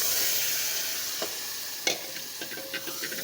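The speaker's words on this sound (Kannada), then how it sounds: "ಈ ಥರ ಫ್ರೈ ಆದಮೇಲೆ ಇವಾಗ ನಾವು ಬೇಯಿಸಿಟ್ಕೊಂಡಿರೋ ತರಕಾರಿಗಳನ್ನೆಲ್ಲ ಹಾಕಬೇಕು" Boiled vegetables hitting a hot frying pan of spices for Bangalore-style vegetable sambar, a steady loud sizzle with a few sharp scrapes and stirring knocks of a spoon against the pan.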